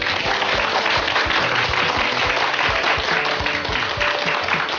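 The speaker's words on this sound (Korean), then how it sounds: "박수가 엄청 기네요." Long applause from an audience, a thick and continuous wash of many hands clapping at an even, fairly loud level throughout, with no voices rising above it.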